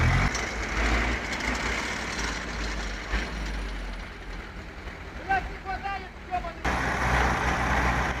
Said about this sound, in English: TDT-55 assisted in pulling the truck across this road.